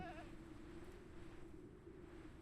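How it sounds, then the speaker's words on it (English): A goat bleats in a hardcore survival video game, one wavering, nasal cry near the start that fades into steady low game ambience. "Hey, it's a goat."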